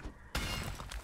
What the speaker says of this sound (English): Smashing up the dirt.